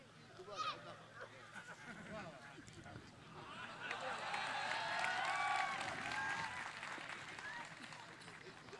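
Applause and crowd noise from an audience at a Gujarati dayro comedy performance swell from a lighter start into sustained clapping through the second half, fairly distant and steady.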